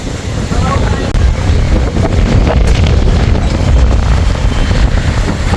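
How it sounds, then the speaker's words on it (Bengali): Strong storm wind blows across the river at Bhola Island during a flood, with rain on and off, producing a loud, steady, roaring buffet that fills the whole stretch without letting up. "প্রচুর বাতাস নদীর পানি সীমার উপর দিয়ে প্রবাহিত হচ্ছে"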